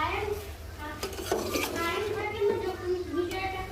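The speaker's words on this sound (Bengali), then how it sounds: "এখন ঢেকে দিব ঢাকনাটা উঠিয়ে আবার একটু নেড়ে চেড়ে দিব" A pan lid is lifted and a cabbage fry with chilli and salt is stirred in a pan, producing metallic clinks and scraping under continuous nearby speech.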